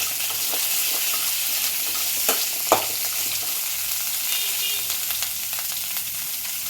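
Coconut pieces fry lightly in a pan for chutney, giving a steady, continuous sizzle with a few sharp crackles and pops, close and alone without any voices.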